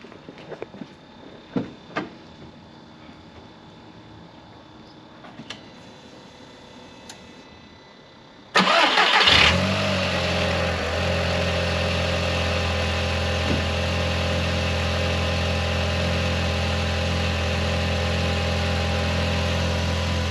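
An Audi TT Mk1 with a newly fitted cheap front mount intercooler sits quietly with faint ticks, then fires up abruptly and settles into a steady, close, even idle with no talk.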